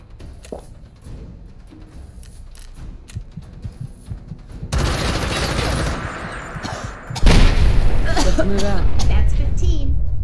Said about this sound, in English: Did that explosion kill him?